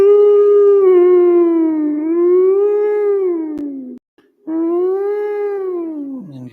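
A human voice imitates a puppy dog whine, two long sliding, wavering nasal tones, the first about four seconds, then a brief pause before a second that slides down at the end, close and clear with no other sound.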